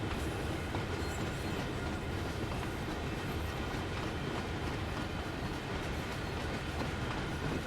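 Canadian National freight train rolling along the Oakville Subdivision in the Train Sim World 3 video game during a blizzard, a steady, loud, dense rumble with rail and wheel noise that continues unbroken throughout.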